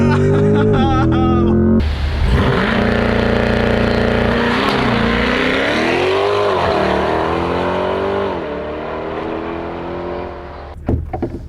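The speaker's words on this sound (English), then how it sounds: "step on the brake, floor it, release the throttle, and off we go" A 2020 Chevy Corvette in track mode launches hard from a standstill, its engine revving loud and close with a rising roar that climbs through the gears with shift dips before easing off, and a voice speaks briefly near the end.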